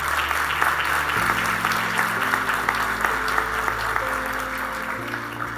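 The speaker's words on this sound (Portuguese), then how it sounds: "Você pode dar um aplauso a ele?" Congregation clapping steadily during a church service, a dense, continuous round of applause over sustained organ or keyboard chords playing underneath.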